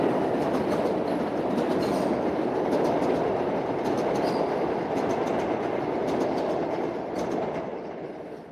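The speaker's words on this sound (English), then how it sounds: "here goes one of the trains" A train rumbles past nearby in New York with a steady roar and faint rhythmic clacking, fading slightly at the end.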